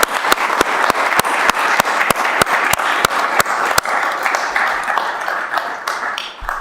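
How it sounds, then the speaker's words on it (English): Applause at a city council meeting for Chief Doug Romali, a room of people clapping steadily with a few sharp, loud claps close by that keep a regular beat, then thinning out toward the end. "I just want to give Doug Romali a round of applause on that"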